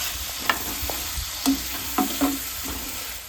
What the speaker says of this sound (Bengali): খুব ভালো করে জল দিয়ে আবারও আমি নাড়াচাড়া করে নিয়েছি